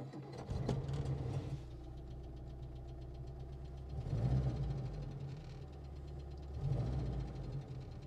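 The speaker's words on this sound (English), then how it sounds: "Now, the engine in this is the 2267cc, giving us 58 brake horsepower." A Humber Hawk Mk V with its 2267cc engine idles in neutral, a low steady rumble with a few louder surges, close by and with no talk.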